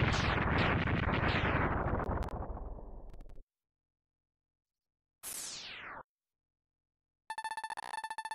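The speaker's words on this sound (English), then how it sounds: "What was that explosion?" A loud explosion from the SNES game Mega Man X3 roars broadband for about three seconds and tapers, followed after silence by a short descending sweep and then a steady electronic tone, with no talk.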